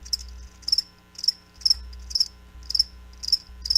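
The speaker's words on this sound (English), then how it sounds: "That's right, crickets." Crickets chirp in steady repeated bursts, about seven pulsed trills over a few seconds, clear and fairly close against a low background hum.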